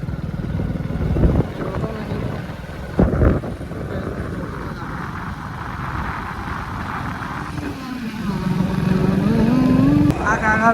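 A motorcycle riding along a village road toward home, its engine droning steadily up close with wind rumble, a rising rev near the end, and someone talking over it.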